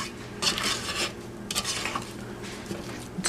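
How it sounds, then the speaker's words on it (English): Thick snow dough being stirred in a pan, giving repeated scraping and clinking of a utensil against the pan in uneven bursts, close and fairly quiet. "this is the hardest part of it actually, where it's thick and you got to keep stirring"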